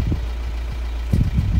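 A VW Transporter van engine starts and idles nearby, a steady low rumble throughout with a brief rise in rough mechanical knocking toward the end.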